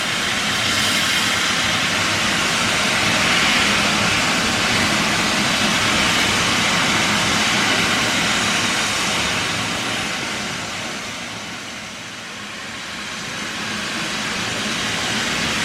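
A steam train stands stationary on the West Somerset Railway with its engine running, giving a broad, steady hiss and rumble that swells and eases slightly, with no voices.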